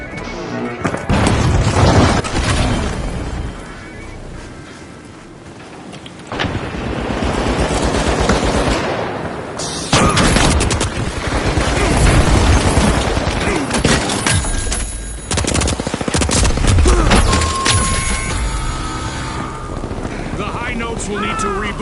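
A frag grenade blast and rapid gunfire in The Finals video game make a loud, dense barrage of booms, crashes and shots that pauses briefly, then comes back with continuous chaotic bursts and voices underneath.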